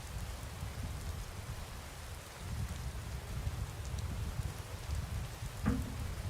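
Steady rain falling in Skyrim, a soft, even hiss of drops with a low rumble underneath, continuous and fairly quiet, with one brief sharp knock near the end.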